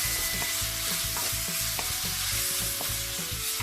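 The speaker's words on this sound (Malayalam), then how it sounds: "അതായത് മല്ലിപ്പൊടി, ഗരം മസാല, മുളക് പൊടി, മഞ്ഞൾപ്പൊടി, ഇതെല്ലാം കൂടി ഇളക്കി ഒന്ന് റോസ്റ്റ് ചെയ്യുക" Coriander, garam masala, chili and turmeric powders roasting in a hot pan for a chicken curry, a loud continuous sizzle with rhythmic scraping strokes as the spice mix is stirred, no talking.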